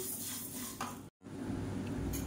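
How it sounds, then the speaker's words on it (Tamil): Legumes (payir) dry-roasting in a pan, with close, steady sizzling and crackle broken by scraping stirs, a brief gap midway, no talk. "இது வந்து நல்லா பொரியட்டும்."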